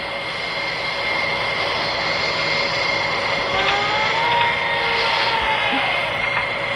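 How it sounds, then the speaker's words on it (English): A C-400 airplane descending toward the runway, its steady engine roar and whine filling the scene loudly and continuously, swelling slightly midway, with no talk. "The plane was now decreasing for the runway."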